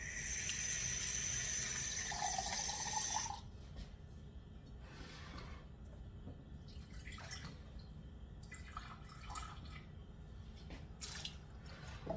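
Water pours steadily for about three seconds into a flour mixture, then stops, followed by quiet drips and soft clinks against a low background hum.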